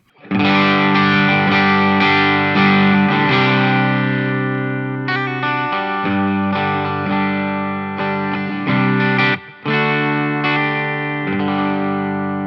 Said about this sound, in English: So here's the booster side of the GT500.